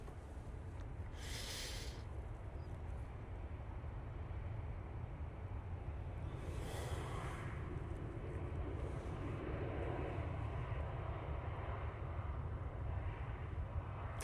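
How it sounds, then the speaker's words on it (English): Qatar Airways Boeing 787-9 Dreamliner departing Manchester for Doha, a faint, distant, steady engine rumble that stays even throughout, with a couple of brief hissing bursts and no voices. "The Qatar 787-9 Dreamliner with a lovely Jane on board, going over to Doha."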